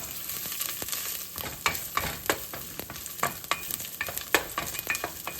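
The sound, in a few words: ginger frying in hot oil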